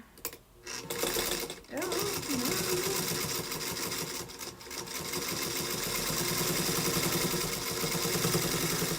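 A sewing machine stitching a quilt seam runs in a steady, fast mechanical whir, close and continuous after a couple of brief stops early on, with faint talk in the background.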